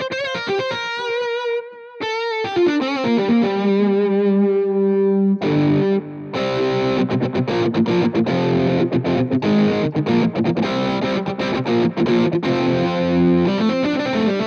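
An electric guitar played through Amplitube 4 Mesa and Orange amp models with heavy distortion: sustained ringing notes and slides first, then a brief pause, then dense chugging, driven riffing.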